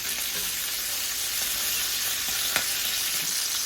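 Chicken pieces fry in a hot pan with a steady, close sizzle and crackle, a few light clicks and one sharp tap as they are flipped over.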